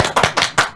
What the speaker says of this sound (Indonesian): Ya tepuk tangan yuk biar ditambah nih.